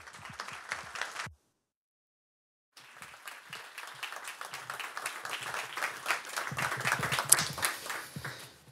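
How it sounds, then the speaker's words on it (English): Scattered clapping in a room at a business climate survey presentation breaks off into silence, then resumes and swells into fuller audience applause welcoming a speaker. "Let's give him a warm round of applause."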